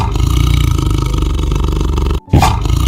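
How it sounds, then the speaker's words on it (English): A tiger roars loud and close in a long rumbling growl, which breaks for a moment and then surges back into a harsh, rasping roar. "Tiger,"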